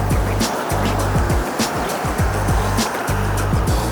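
Heavy traffic on a 12-lane street in Beverly Hills, a loud continuous rush of passing cars with engines rising and falling close by.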